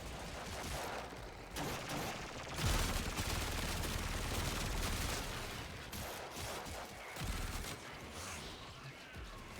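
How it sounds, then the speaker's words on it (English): Laser gun fire in the sci-fi shooter Warframe: rapid, continuous bursts of shots with heavy low-end booms, loud and sustained through most of the clip amid dense game noise. "Blow him up with my laser gun."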